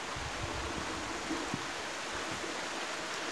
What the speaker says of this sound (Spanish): allá es como que cae el agua y hay como una garganta